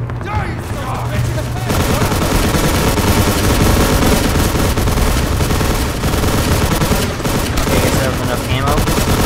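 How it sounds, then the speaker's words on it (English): Dense, continuous automatic gunfire from the video game Hunt Down the Freeman rattles loudly throughout, a sustained fusillade with overlapping rapid shots. "Did I stay here and just shoot everything?"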